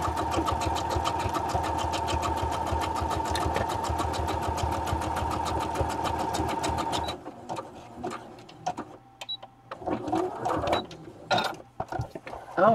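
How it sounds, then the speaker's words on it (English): A home sewing machine runs in a steady, fast mechanical rhythm for about seven seconds, loud and close, then stops, leaving quiet room sounds and light handling noises. "I moved my sewing machine again"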